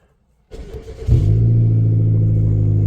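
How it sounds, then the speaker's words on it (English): A car engine cranks and catches, then settles into a steady, loud rumbling idle from the exhaust, close by. "We'll listen to that exhaust."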